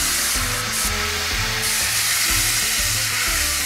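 Pasta cooking water hitting a hot pan for carbonara, a loud, continuous hiss and sizzle with a rumbling bubbling undertone that holds steady throughout.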